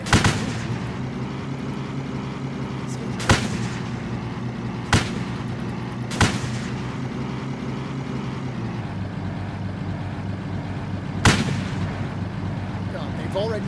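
Enemy gunfire in a war video game rings out in four or five sharp, loud single shots spaced a few seconds apart over a low rumbling engine drone, with no talking.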